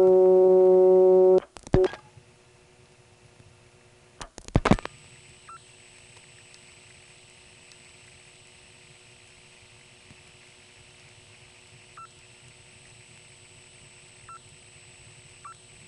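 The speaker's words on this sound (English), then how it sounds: "Here's an absorbed digit, followed by a digit that cuts into a second selector." Step-by-step telephone exchange switching at Commerce, Georgia: a loud burst of tone ends abruptly, followed by sharp clicks of an absorbed digit and a second dialed digit cutting into a second selector, then a faint steady high tone with occasional soft ticks.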